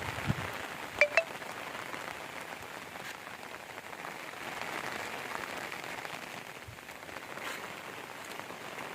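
Rain falls steadily over a village, a soft continuous patter with a couple of sharper drip or clink sounds near the start, fairly faint and even throughout with no voices.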